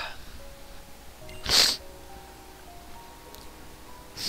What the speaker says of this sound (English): I had a sneeze.